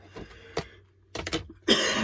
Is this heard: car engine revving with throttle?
no